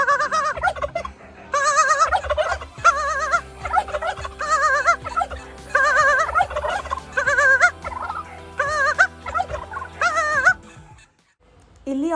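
An unusual fowl calls in a park with a loud, close, turkey-like gobbling, repeated in bursts of rapid warbling notes with short pauses between, continuing for most of the time before falling silent near the end.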